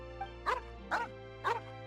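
A dog in the video game Genshin Impact gives three short, evenly spaced barks, close and clear over a steady low background hum.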